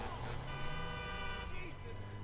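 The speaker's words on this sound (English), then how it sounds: "Just because I honked." Car horn honking in the video game GTA 5, a sustained toot sounding over game engine noise, short and moderately loud.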